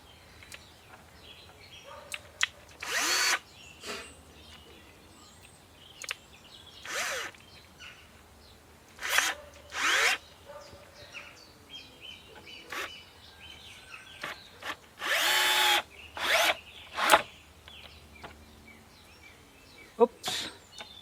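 A power drill drives screws into wood for a Japanese tea house bridge, in short whirring bursts separated by pauses, with birds chirping faintly in the background.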